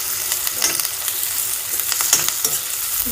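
Capsicum and curry leaves fry in a pan, giving a loud, steady sizzle with scraping, clinking stirring strokes all the way through and no one talking.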